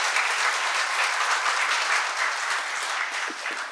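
Steady, dense applause from a crowd at a Korean healthcare union leaders' meeting, loud and continuous throughout, with no talking over it.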